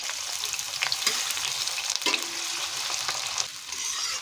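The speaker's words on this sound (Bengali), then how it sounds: "এবার পেঁয়াজটা খুব ভালো করে ভেজে নেবো আমরা" Chopped onion fries in hot oil with bay leaves, cardamom, cloves, cinnamon and chili for restaurant-style chicken kosha, giving a steady, close sizzle with a few scraping stirs and no talking.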